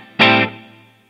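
An electric guitar plays a single loud, distorted chord through a reverb effect on a Headrush pedalboard, struck sharply and then cut off, with a reverb tail that fades away alone over about half a second.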